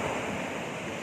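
Ocean waves surging stronger at high tide as evening falls, a steady broadband wash of surf with some wind noise, continuous and fairly close, with no talking.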